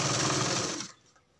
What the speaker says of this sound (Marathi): याचा पण कडेने अशी स्टिच करून घ्यायचं